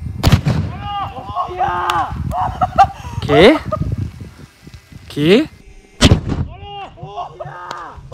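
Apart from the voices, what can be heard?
homemade cannon firing shots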